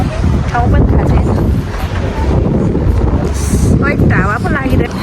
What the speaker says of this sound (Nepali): हावा पो लागिरहेको हो यसरी